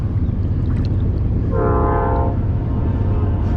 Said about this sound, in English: Look at that train in there. Whoa, the doggone train is in there.